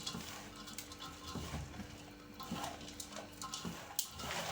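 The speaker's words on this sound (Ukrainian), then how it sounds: "Приправи ми всипали і легенько перемішуємо." Shredded cabbage with grated carrot, salt, black peppercorns and bay leaves being lightly stirred and tossed by hand, giving soft rustling and scraping with a few small clinks, steady and close, with no voices.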